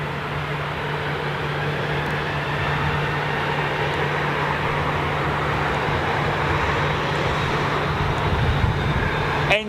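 Jet aircraft engines give a steady, unbroken roar with a low constant hum underneath, holding at an even level throughout with no voices.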